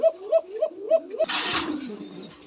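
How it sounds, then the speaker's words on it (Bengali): A pair of fancy pigeons coo in a regular rhythmic series of soft, throaty calls, close by at a pigeon farm, followed by a brief burst of rustling noise and fading coos. "দেখেন একজোড়া কুকা কবুতর"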